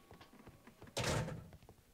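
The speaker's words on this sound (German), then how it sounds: "Ich will immer mit E die Tür öffnen." A door opening in the video game Sherlock Holmes: Crimes and Punishments, heard as one solid thunk with a short creaking sweep after it, over quiet soft ticking background sounds.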